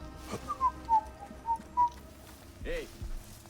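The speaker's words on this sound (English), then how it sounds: "Whistle while you kill." A character in a video game whistles a short run of clear, separate notes to lure guards, followed by a brief rising whistle near the end, with quiet game sounds underneath.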